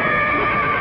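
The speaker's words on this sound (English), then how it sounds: "Well, I thought I heard a horse." A horse neighs loudly and close, one sustained whinny filling the short moment on its own, with no voices over it.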